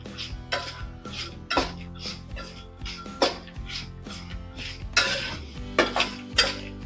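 Masala peanuts being mixed in a pan: a run of close, sharp clinks and scrapes of utensil against metal with a hollow rattle, irregular bursts roughly every half second, fairly quiet overall and with no talk.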